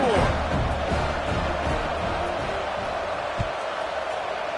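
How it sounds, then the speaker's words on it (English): Football stadium crowd at a college game buzzing after a score, a steady broad roar of many voices with a faint commentator voice over it and one brief thump near the end. "this crowd is buzzing after that last score"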